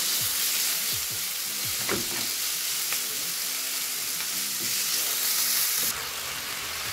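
Minced meat seasoned with salt, spices and parsley fries in a pan with a loud, steady sizzle, broken by occasional soft scrapes and clicks as it is stirred.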